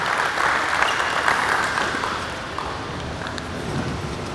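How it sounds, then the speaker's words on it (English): An audience at a 2019 Tasman coaching clinic gives a round of applause, a steady, even wash of many hands clapping at moderate distance, with no talking over it. "Please give them a round of applause."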